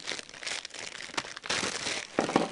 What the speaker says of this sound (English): I'm simply going to remove them from the plastic bags